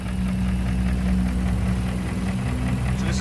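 A 2017 Ford F250 Lariat Super Duty's 6.2-liter V8 with automatic transmission idles steadily close by, a low, even rumble with no voices over it.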